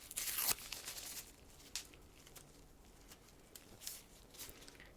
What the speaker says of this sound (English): I'm going to go ahead and rip open this alcohol pad.